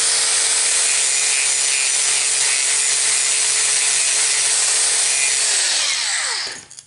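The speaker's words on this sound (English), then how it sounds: "So just grind those smooth." A grinder works steadily on the window regulator gear mounting points, smoothing them for a Dorman modern window motor swap on a 1960s Lincoln; a loud, continuous abrasive whine runs throughout, then spins down and stops at the end.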